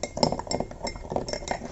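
A glass rod stirs a solution inside a glass beaker during a displacement reaction experiment, clinking and tinkling repeatedly against the glass in quick, close, bright taps with no voice.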